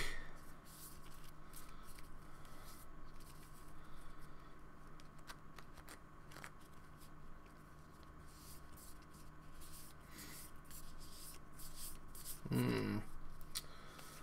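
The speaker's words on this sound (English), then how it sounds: "I'm going to shuffle some sleeves" Sleeved trading cards for a Magic: The Gathering Modern Scapeshift deck are shuffled in a soft, continuous riffle and slide, low and close. A slightly louder burst of shuffling comes near the end.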